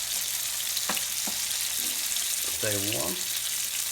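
Garlic toasting in a hot pan gives a steady broadband sizzle under brief speech, with a few light clinks and a short voiced sound near the end.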